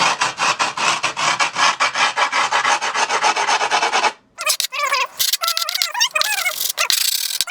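A screwdriver scrapes along grip tape to outline a cruiser skateboard deck, making fast, even rasping strokes close up. The scraping then breaks off and is followed by scattered sharp yelps and barks, like a dog.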